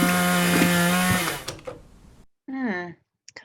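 Loud mechanical drone of a chainsaw running, staged as a Halloween sound effect, steady for about a second and a half before fading, then a short rising rev burst, with a voice speaking over it.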